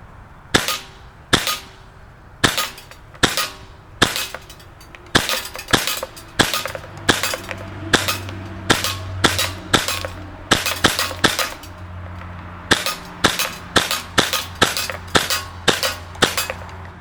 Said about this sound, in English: I'm basically just gonna empty this magazine and see where it shoots